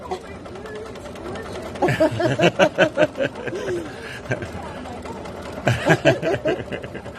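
A sewing machine stitching a quilt block runs in two short rhythmic bursts of rapid, even needle clatter. Someone talks and laughs between and over the bursts.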